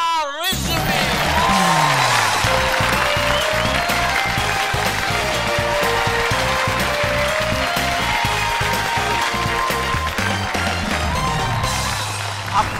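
A studio audience at a talk show claps steadily and loudly for a guest's entrance, with music playing under the applause throughout.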